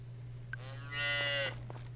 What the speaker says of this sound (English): They cows.